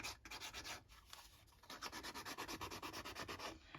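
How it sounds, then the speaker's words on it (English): Edges of a cardboard box scuffed with sandpaper, quick close rhythmic rubbing strokes in short bursts, faint and dry, with no voice. "we are going to go just round the edges of the box to scuff it up a bit"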